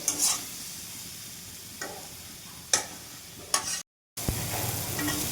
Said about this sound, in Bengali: এভাবে ভাজতে থাকবো, মশলার সঙ্গে মিশতে থাকবে, একটু ভাজা ভাজা হবে।